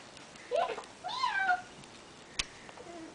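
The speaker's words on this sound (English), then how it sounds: "What does Tiger say? Meow" A cat meows twice, close and fairly soft, with rising and falling tones, followed by a brief knock and a faint trailing mew.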